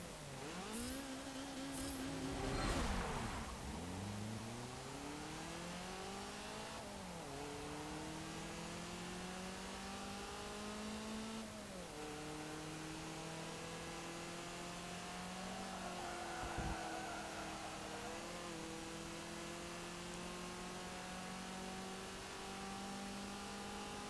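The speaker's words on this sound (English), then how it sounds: "I'll let you listen to what this car sounds like" A 1988 Volkswagen Scirocco 16v engine in the video game Forza Motorsport 7 revs up and down repeatedly, its pitch climbing and falling through gear shifts, loud and continuous with no talking.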